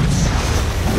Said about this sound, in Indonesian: mencabut granat miliknya dan ledakan besar pun terjadi